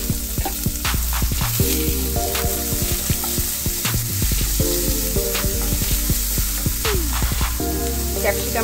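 Diced carrots, potatoes and beans frying in oil in a pan for semolina upma, a loud continuous sizzle with scraping stirring sounds, heard close and alone with background music.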